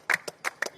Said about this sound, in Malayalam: കയ്യടി വേണം.